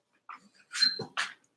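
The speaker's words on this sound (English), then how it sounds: "Dogs bark once" A dog gives a few sharp, close barks mixed with short high whimpers in a quiet room, the sounds brief and separated by silences.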